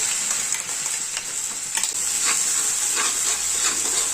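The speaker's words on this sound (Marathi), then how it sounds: "आता एक अर्धा मिनिट मसाला छान परतून घ्यायचा आहे।" Freshly made masala with mustard seeds, cumin and asafoetida sizzles in hot oil in a pan while being stirred, a steady close hiss with scraping strokes.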